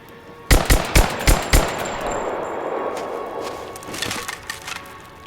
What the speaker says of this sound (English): there are some fantastic gun crack shooting sounds in this game